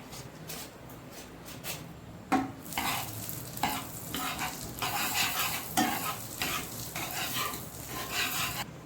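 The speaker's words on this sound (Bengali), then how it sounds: "আমি প্যানটা বসিয়ে নিয়েছি আমি এর মধ্যে দিয়ে দেবো বাটা" Butter melting in a frying pan for milk pasta, a close, steady sizzle broken by repeated scraping stirs and light utensil taps against the pan, no talk.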